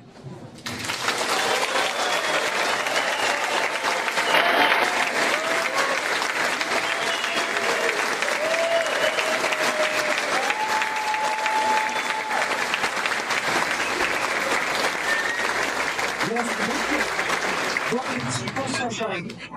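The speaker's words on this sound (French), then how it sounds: "j'ai besoin de 10 secondes d'applaudissements pour que toute la cinéma puisse entendre notre arrivée et notre motivation" Sustained applause from a large audience fills a cinema at the inauguration of a BYD car dealership near Paris, steady and loud for nearly twenty seconds, with cheers and whoops rising over the clapping.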